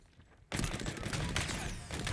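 Machine gun fire in the video game Halo Infinite, bursting in suddenly after a quiet moment as a dense, loud, continuous rattle of rapid shots that keeps going to the end.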